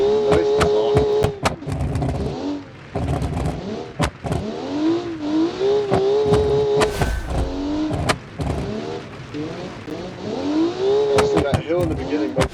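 Racing cars in a showcase race heat rev and accelerate around a track with a hill near the start, engines whining up and down in repeated bursts while a commentator talks over them.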